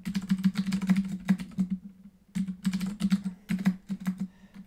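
Fast typing on a computer keyboard, with bursts of clicking keystrokes separated by a short pause, close and clear over a steady low hum.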